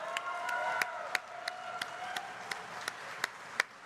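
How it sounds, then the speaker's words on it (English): A live event crowd claps steadily in sustained applause, with sharp individual claps popping out at regular intervals over a dense, even wash. "a huge round of applause"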